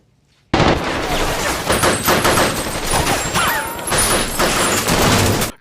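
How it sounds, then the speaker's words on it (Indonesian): Gunfire in a film shootout, loud dense volleys of shots and crashes that erupt suddenly after a quiet moment and continue rapidly without pause. "Dor, baku tembak terjadi."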